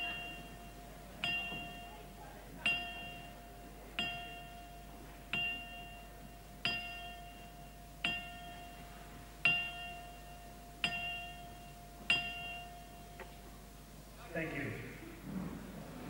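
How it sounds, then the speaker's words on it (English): A ring bell is struck ten times in slow, even succession at a kickboxing event, each clear metallic ding ringing out and decaying before the next, with crowd noise murmuring underneath and a brief rustle at the end. "in the tradition of kickboxing, we toll the bell 10 times."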